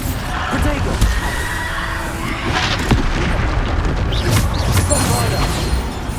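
Blasting spells go off in the Hogwarts Legacy video game, heavy booming impacts mixed with bright magical crackles and a horse-like whinny, loud and close amid busy combat effects.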